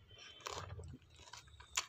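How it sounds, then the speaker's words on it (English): Crunchy pani puri, Indian street food, being chewed close up: several crisp crunching bites in quick bursts, with soft mouth sounds between them and no talking. "I cannot talk properly because I'm eating."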